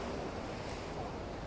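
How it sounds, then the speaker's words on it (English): Ocean waves breaking against coastal rocks make a steady, broad wash of surf, mixed with wind rumbling on the microphone, with no voices. "Now we're just going to wait for another set of waves and take another shot"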